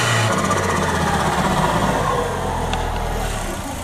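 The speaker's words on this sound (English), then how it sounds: "We'll give it a couple revs so you guys can hear the blow-up valve noise" A turbocharged Mopar engine fitted with a pod filter revs nearby, a loud rising and falling drone that fades toward the end, a brief sharp hiss from the blow-off valve standing out midway.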